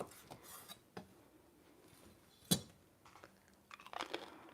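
Crisp chewing of crispy steak fajita meat with a few sharp crunches, one loud bite standing out, close to the mic with no talking.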